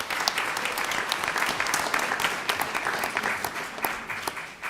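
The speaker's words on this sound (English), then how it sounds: "Cindy organized this event and totally deserves a round of applause" Applause at a school board meeting, a moderate round of clapping from a small audience in a meeting room, irregular and fairly brief, tapering off at the close.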